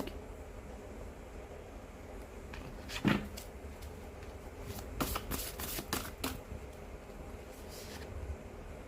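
Tarot cards shuffled by hand in a quiet room, faint riffling and soft slaps in a few short bursts over a low background hiss.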